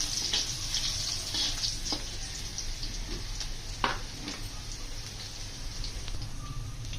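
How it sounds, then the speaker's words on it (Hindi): Ginger and green chillies fry in hot oil over a low flame, a continuous dense crackling sizzle with occasional louder pops, close up and steady throughout with no voices. "ये डाल के अदरक भी हल्का से इसको आप भूनिए"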